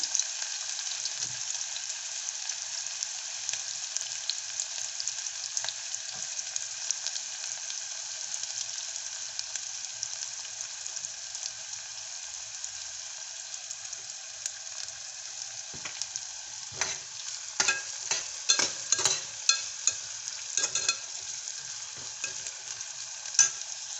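Steady hiss of finely chopped onions frying in a pan, with a cluster of louder crackles and scraping stirs near the end. No talking.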